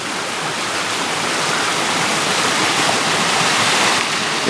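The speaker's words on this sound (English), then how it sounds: "It's the only one throwing water into the East Fork in this area" Devil's Gulch waterfall pours into the East Fork along a backpacking route, a loud, dense, unbroken roar of rushing water heard up close.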